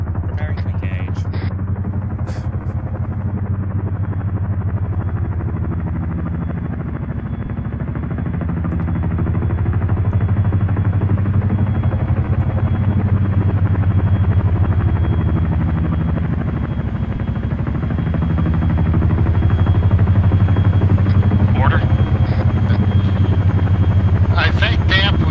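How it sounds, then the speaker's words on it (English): A Chinook helicopter in a video game approaches with a heavy, continuous rotor thump and low rumble that swells louder toward the end. "Chinook to our southwest, coming in."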